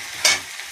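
Garlic sizzles in a hot pan of reddened onion and chilli for a fish curry, with one short scraping stir over a steady close frying hiss.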